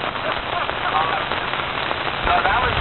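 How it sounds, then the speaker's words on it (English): Heavy rain pours down outdoors at a campout in northern Oregon near Lebanon, a dense continuous hiss of drops on surfaces, loud and steady, with faint radio-like voices underneath. "pouring down rain."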